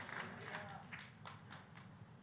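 Church congregation clapping together in a scattered, moderately quiet applause, with the claps spread out rather than tightly rhythmic and no voices rising above them.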